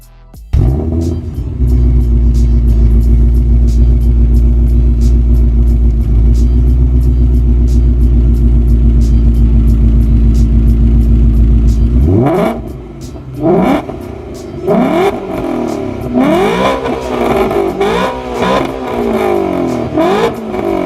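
A Mustang's exhaust holds a loud, steady high-rev drone for about twelve seconds, then drops off. Several sharp blips follow, each rising and falling again, close and alone with no talk over it.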